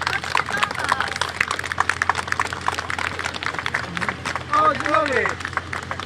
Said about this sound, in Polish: Chodźcie, ich przywitamy brawami.